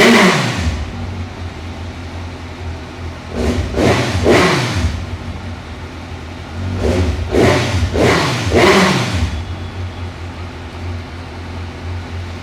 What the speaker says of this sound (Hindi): ये स्टॉक बाइक की आवाज़ है,